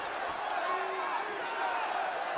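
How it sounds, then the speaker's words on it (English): Arena crowd in the UFC 2 fighting video game during a heavyweight title bout, a dense continuous roar of cheering voices swelling evenly throughout, loud and broad with no distinct individual voices. "The crowd reacts to Cain Velasquez."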